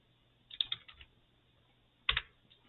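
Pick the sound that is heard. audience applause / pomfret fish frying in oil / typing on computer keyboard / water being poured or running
typing on computer keyboard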